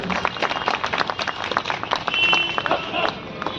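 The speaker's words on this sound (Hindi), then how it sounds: "एक बार जोरदार तालियां होनी चाहिए" A crowd at a ward event for Pandit Madan Mohan Malaviya's birth anniversary bursts into enthusiastic clapping, a dense, close, steady patter of many hands lasting a few seconds.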